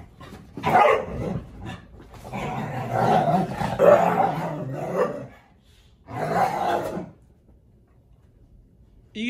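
Brittany Spaniel puppies growl and snarl in short playful bursts with brief yips while play-fighting, loud and close, separated by quiet pauses.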